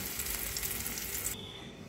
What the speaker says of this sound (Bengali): আস্তে করে আমি বড়াগুলো ভেজে নিচ্ছি